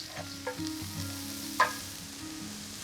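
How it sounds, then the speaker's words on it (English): Chopped onion going into a hot pan of extra virgin olive oil over high heat, giving a soft steady sizzle with a few stirring clatters and one sharper clink, close and alone. "good drizzle of extra virgin olive oil into that pan. And then we're going to add in an onion."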